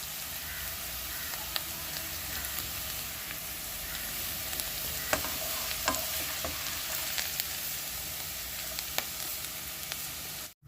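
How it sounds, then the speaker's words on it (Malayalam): Potato pieces fry steadily in hot oil for dumaloo, a continuous crackling sizzle with scattered pops and occasional stirring clinks, with no talking. "നമ്മുടെ പൊട്ടാറ്റോ നല്ലതുപോലെ ഫ്രൈ ആയിട്ടുണ്ട്."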